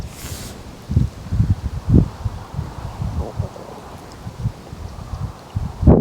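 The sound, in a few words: wind blowing outdoors by a fishing lake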